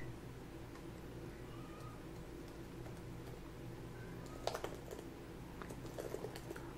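Keys clatter on the replaced keyboard of a Toshiba Satellite C50-A laptop, a few soft taps early, then a denser burst of close key presses over steady low room hum.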